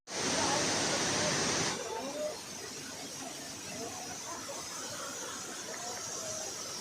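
Susung Waterfall on a hiking trail at Kampung Sting, a steady broadband rush of falling water that stays continuous throughout, loud at first and then settling to a constant roar.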